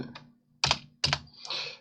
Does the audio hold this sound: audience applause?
no